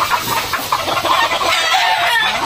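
A hen clucks and cackles loudly and repeatedly after laying an egg, a steady excited run of calls close by in a farmyard.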